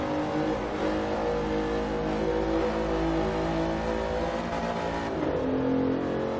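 Bentley Continental GT engine in Forza Horizon 2 pulling hard through its eight-speed gearbox, a loud steady drone with rising and shifting harmonics throughout, no talk over it.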